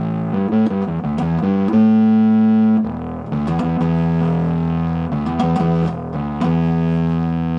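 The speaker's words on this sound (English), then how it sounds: "Now, it also has a drive switch that you can throw in there for some distortion." A bass guitar plays through a JOYO MA-10B bass amp with its drive switch engaged, giving a fuzzy, distorted tone; picked notes and sustained chords ring out loud and close, without talk.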